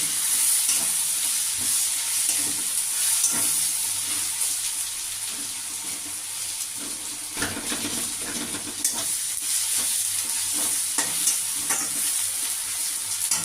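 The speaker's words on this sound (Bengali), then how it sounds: "এবার আমি এর মধ্যে টমেটোগুলো দিয়ে দেবো" Tomatoes go into onions already fried reddish in a pan, and a continuous loud sizzle follows with repeated stirring scrapes, near and without speech.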